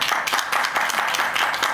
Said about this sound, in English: Please let each candidate finish before clapping.